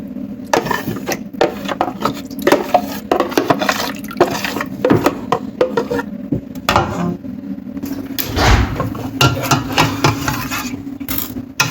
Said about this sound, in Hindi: हम थोड़ा सा इसमें पानी खंगाल के इसमें डाल लेते हैं।